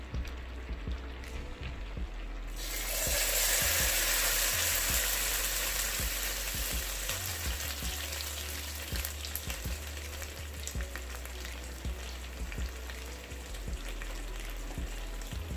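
Pinto beans tipped into a heated pan set off a sudden loud sizzle that settles into steady, crackling frying with scattered pops, heard close and without voices.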